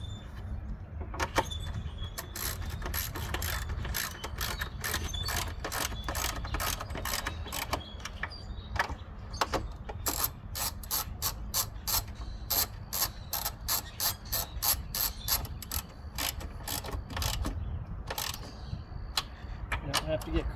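Ratchet wrench turning a 10mm bolt on the carburetor of a Kohler KT7000 series engine, giving rapid, sharp clicking bursts that run on close-up and steady, with short pauses between strokes.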